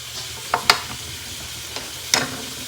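Steak browning in a little oil in a pan, a soft steady sizzle broken by several sharp spatters and stirring scrapes, close by and without talk.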